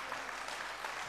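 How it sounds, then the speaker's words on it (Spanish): Audience applause at the Maketón Maeloc 2020 awards ceremony, a dense continuous wash of clapping from a crowd filling the whole moment, with no voices over it. "¡Aplauso para él!"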